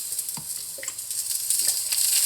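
Eggplant slices frying in a hot pan, with a steady bright sizzle punctuated by a few soft scraping stirs, close and alone.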